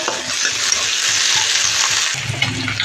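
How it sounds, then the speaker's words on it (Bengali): Sliced onions sizzle steadily in hot oil with whole garam masala for a potato and jackfruit curry, a loud continuous frying hiss with occasional stirring scrapes and no voices. "দিয়েছি তেলের উপর গোটা গরম মশলা তারপর দিয়েছি পেঁয়াজ ভালো করে ভেজে নেব"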